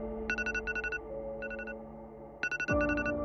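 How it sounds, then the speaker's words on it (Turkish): An electronic alarm beeps in short rapid bursts, pausing between clusters, over a steady hum, with a falling tone near the end. "Bu alarmı dün gece sen kurmuştun."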